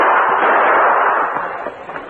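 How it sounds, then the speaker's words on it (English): Gunshots fired as a radio drama sound effect during an old western shootout, heard as a loud, dense burst of noise that fades slightly over two seconds, with no voices. "firing into the window from which the doctor had shot"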